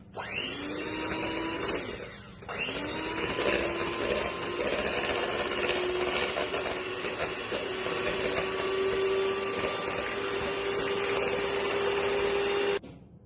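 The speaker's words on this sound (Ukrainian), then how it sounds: "Сметанку з цукром з ванількою збиваємо міксером." Electric hand mixer whipping sour cream with sugar and vanilla, a steady loud motor whine with a rising pitch, cutting out briefly near the start and then running continuously alone.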